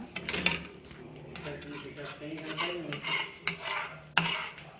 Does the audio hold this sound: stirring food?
yes